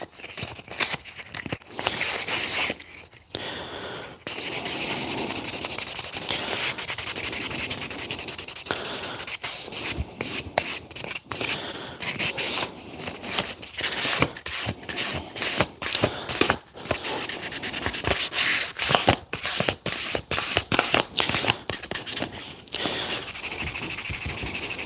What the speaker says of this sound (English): the sanding of this micarta is kind of a pain in the ass. I find it takes long.